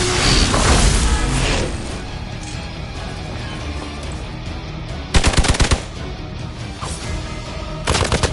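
Gunfire in the video game Marvel's Midnight Suns: a loud opening blast, then two short rapid bursts of automatic fire, close and punchy, against a steady background rumble.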